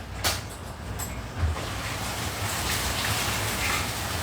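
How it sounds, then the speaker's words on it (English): Strong storm wind roaring steadily outside, a dense broadband rush with a couple of brief gusting bumps or knocks, no talk. "Cause this is windy."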